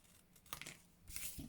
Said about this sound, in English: just with a pair of scissors is absolutely fine.